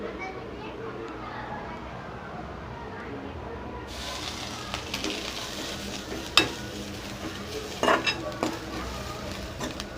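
Grated coconut roasting in ghee in a pan while being stirred: a soft, steady sizzle rises after a few seconds, with occasional spoon-on-pan clinks and voices faintly in the background.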